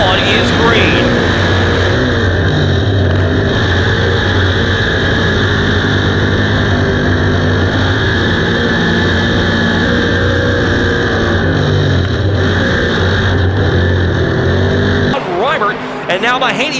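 A pack of dirt track race cars roars around the oval during a heat race, a loud sustained engine drone with rising and falling tones that cuts off near the end into quieter noise.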